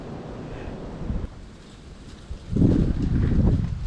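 Gusty wind buffets the microphone in a low, rumbling roar that eases briefly, then surges back louder.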